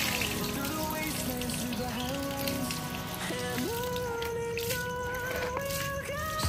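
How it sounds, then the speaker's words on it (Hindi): Water trickles and splashes steadily as excess rainwater drains out of flower pots, with a continuous pouring sound close by and a faint tonal hum underneath. "बारिश के बाद हमारे गमलों में बहुत अधिक पानी भर गया है, उनको पानी को निकाल लें"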